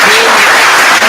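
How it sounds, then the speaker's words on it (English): A person claps their hands on a talk show set in a short burst of rapid, close claps that fill the whole moment. "You clap for yourself."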